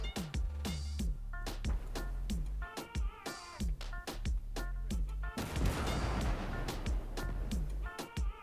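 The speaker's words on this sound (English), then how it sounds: "Oh, and his artillery is firing back too." Artillery and gunfire in the World War II game Gates of Hell, set in the Hurtgen Forest: a rapid, steady barrage of sharp, loud blasts with booming low rumbles, one after another across the whole stretch, with no talking.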